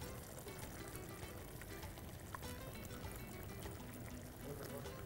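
A thick ground paste of coriander, coconut, green chili and cumin is poured into a pan of cooked eggplant, giving a steady wet pouring and bubbling sound throughout with light kitchen clatter and no talk.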